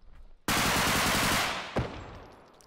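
A sustained burst of automatic gunfire from the first-person shooter Bodycam erupts abruptly, lasting about a second before trailing off, followed by a single sharper shot and a fading echo.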